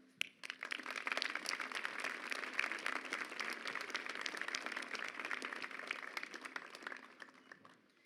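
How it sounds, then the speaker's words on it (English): A graduation audience at Hanover High School applauds steadily for the behind-the-scenes ceremony workers, a dense, even wash of many hands clapping that holds for several seconds before tapering off near the end. "let's have a round of applause for everyone who worked behind the scenes to make this ceremony possible"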